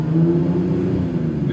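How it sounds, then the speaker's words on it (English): A 2022 Mercedes CLS53 AMG facelift engine revs hard and holds steady against its rev limiter just under 4000 RPM, a loud, continuous, close-up drone with no talking. "rev limiter before 4000 RPM."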